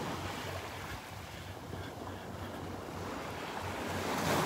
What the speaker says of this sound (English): Looks like the wind is still coming from the east.